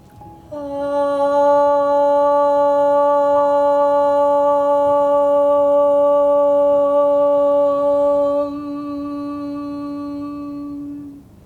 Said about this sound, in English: igniting our practice with one single sound of Om